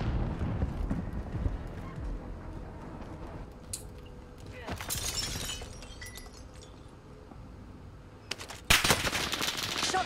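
Gunfire in the battle royale video game Warzone: loud bursts of automatic shots come in two clusters, the last sharp and close, over a busy game soundscape with voices.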